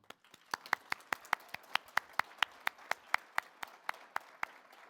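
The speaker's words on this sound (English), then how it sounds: "A round of applause to all of you." A conference audience gives a short round of applause, sharp individual claps ringing out in a steady rhythm for about five seconds in a reverberant hall.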